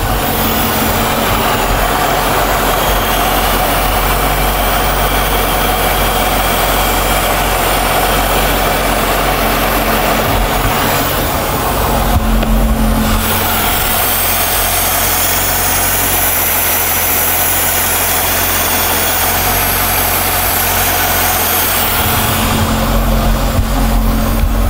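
A C5 Corvette engine idles steadily close by, a low continuous rumble with a faint shift in tone midway.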